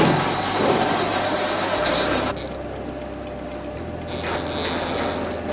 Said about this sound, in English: let the machine detect the wheel